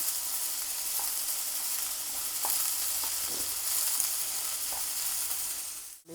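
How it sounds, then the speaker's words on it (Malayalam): Onions fry in hot oil, producing a steady close hiss and sizzle with a few faint stirring taps, then a sudden cutoff at the very end; no voices. "എണ്ണ ചൂടായി വന്നപ്പോൾ ഞാൻ ഉള്ളി ഇട്ട് കൊടുത്ത് പിന്നെ ഉള്ളി നല്ലോണം ഒന്ന് വാട്ടിയെടുക്കാം."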